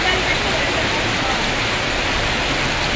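Rainwater pours down the main road in Kurseong, Darjeeling during a heavy hailstorm, making a constant, loud, close roar of rushing water and rain hiss that stays even throughout.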